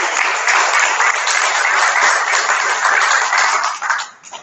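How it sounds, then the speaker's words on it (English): Audience applause for new entrepreneurs at a pitch event before a panel of judges: dense, steady clapping from a room full of people, loud and unbroken, thinning out and fading at the very end. "let's give a round of applause to the entrepreneurs again."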